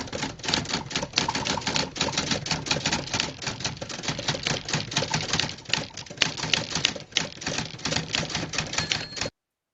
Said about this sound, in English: So the name of it is a typewriter.